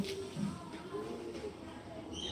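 Pigeons cooing and fluttering close by as a flock is let go, a soft steady murmur of bird calls with faint voices in the background.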